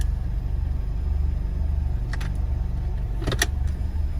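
A steady low engine idle of a Ford Fusion in park rumbles throughout, with a couple of brief higher clicks or rattles near the end.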